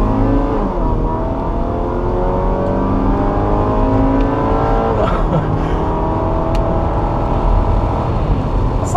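Steady engine and road noise inside a 2014 Chevrolet Captiva Sport with a 2.4L FWD engine and conventional automatic, loud and continuous, with the engine note rising and falling gently as it drives.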